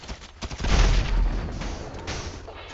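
Gunfire in a video game shootout, with a heavy booming blast followed by a rumbling echo and a few fainter shots trailing off.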